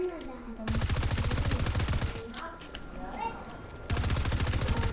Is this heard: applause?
no